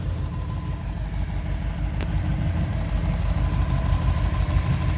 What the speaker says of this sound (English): So obviously that's a fuel injected 5 litre. She's all plumbed up and running.